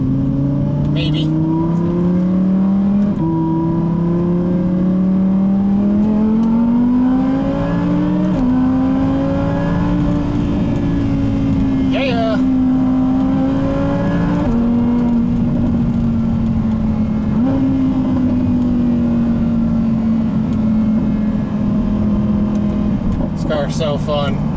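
Engine of a 2020 Can-Am Maverick X3 Max X RS Turbo RR side-by-side revving and pulling steadily, pitch climbing and shifting in stages, loud and close throughout with a voice heard over it.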